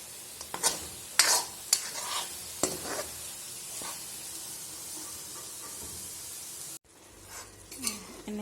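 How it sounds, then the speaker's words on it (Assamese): Chicken meat dry-frying without oil in a pan over a medium flame, Assamese style: a steady soft sizzle with intermittent scraping stirs, close and fairly quiet, with no talk. "এনেকৈ শুকানকৈ ভাজি থাকিলে মাংসখিনিৰ পৰা পানী ওলায়"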